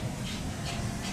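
Amusement park train ride at Hersheypark during the holidays, a steady low rumble and rolling hiss of the moving cars, continuous and fairly close, with no speech.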